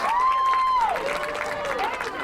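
Home crowd at a college field hockey game rising to its feet late in the match, a broad wash of cheering and applause under a steady whistle-like tone, with a commentator speaking over it.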